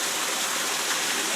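Heavy rain pours down with flooding water, a loud dense continuous rush of falling and running water with no pauses.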